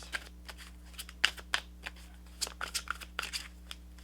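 A deck of tarot cards is shuffled close to the microphone in quiet, crisp riffles and soft flicks that arrive in irregular bursts over a low steady hum.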